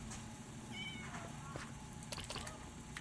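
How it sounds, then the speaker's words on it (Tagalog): Cat meowing inside the Minecraft video game, a few short high mewing calls over a steady background bed of game ambience, with no talk. "pwede ko palang matame yung yung pusa"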